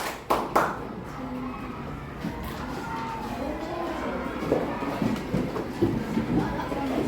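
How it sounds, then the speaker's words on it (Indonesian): Classroom of schoolchildren clapping for a student group, a few sharp claps at first and then scattered, uneven clapping under children's chatter and room noise. "sekali lagi berikan tepuk tangan pada kelompok 1"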